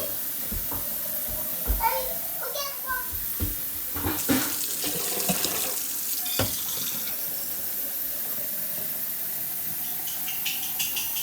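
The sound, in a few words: hot water running from the tap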